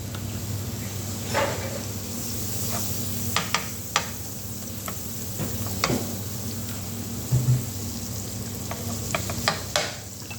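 Butter sizzles in a hot pan while a sandwich filling is being made, a steady soft frying hiss dotted with sharp little pops and clicks, fairly close and heard alone.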